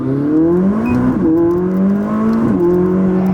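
A tuned 2020 Toyota Supra engine revs hard and steadily, dipping briefly twice as it climbs again, loud and close with no talking.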